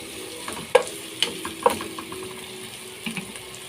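Bay leaves and cardamom being sautéed in a pan for a Turkish meat clay-pot dish, with a soft frying sizzle punctuated by a few sharp stirring clicks and scrapes.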